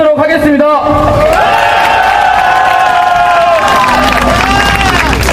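Crowd at an outdoor protest rally in front of the government complex in Seoul against the Korea–Japan military agreement, heard as loud sustained cheering and shouting with voices rising together, plus a brief burst of clapping near the start.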